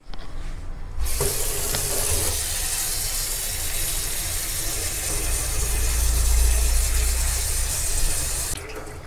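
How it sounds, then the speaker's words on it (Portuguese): Running tap water pours steadily over a car air filter being washed, a continuous broadband splashing hiss lasting most of the stretch, with a low engine-like rumble underneath. "lavar o filtro em água corrente para tirar"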